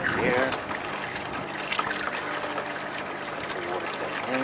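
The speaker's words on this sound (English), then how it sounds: "The water flowing in." Water trickles and flows into a homemade mineralization tank through a siphon line, a steady close wash and dribble with air-pump bubbling, while a voice speaks briefly over it at the start.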